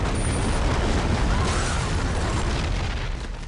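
A massive film-set explosion and fire blast from the movie Daylight, a dense continuous roar of rushing flame that stays loud and steady throughout, then eases slightly at the end.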